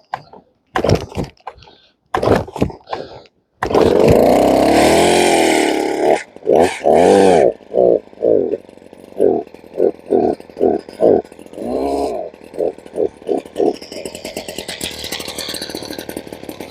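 A sawmill's small engine is pulled to start in freezing cold: short bursts of cranking, then a rough, sputtering run with rhythmic chugs and surges that falters, heard up close.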